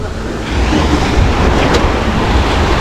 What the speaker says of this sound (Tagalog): Oh, may alon, may alon.